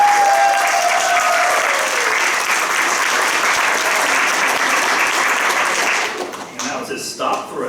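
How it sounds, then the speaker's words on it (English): A large theater awards audience at the Tamaqua Community Arts Center breaks into loud, sustained applause that fills the room for several seconds, then thins out into scattered claps near the end. "So how about a round of applause for our"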